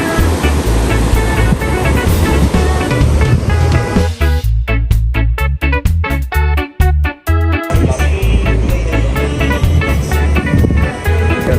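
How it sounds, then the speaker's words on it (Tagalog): At low tide, sea waves along a beach in Daet wash in and out with a continuous loud roar. The sound surges and ebbs close by, with no voices heard. "Ganda po ng tunog ng ng dagat,"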